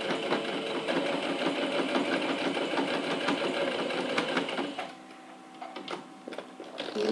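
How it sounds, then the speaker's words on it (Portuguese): A sewing machine runs steadily for about five seconds, topstitching a reinforcing seam on a pouch with a voile mesh window, then drops to a few quieter, intermittent stitches. "vou passar uma costura de pesponto aqui pra reforçar a costura"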